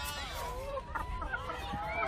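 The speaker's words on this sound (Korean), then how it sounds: "우와, 닭인데." Chickens clucking on a farm, a few soft, uneven calls close by against low background noise.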